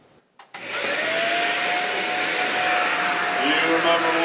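A household vacuum cleaner switches on after a brief click and runs at a loud, steady roar with a high whine, continuous throughout.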